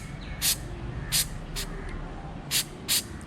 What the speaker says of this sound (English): we're going to be spraying that on top of the O2 sensor and trying to get rid of the carbon deposits